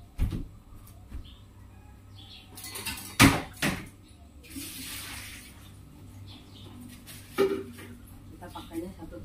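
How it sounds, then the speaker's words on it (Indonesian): Water poured off salted chilies in a home kitchen, splashing and clattering against a pot or sink in a few short bursts, with dishes knocking and someone talking over it. "Bagus aku buang airnya ya."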